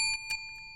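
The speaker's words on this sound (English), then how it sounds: "My bell is so full of rust because I've never had to use it" A rusty bicycle bell rings twice in quick succession, close and clear, its bright metallic tone lingering briefly before fading.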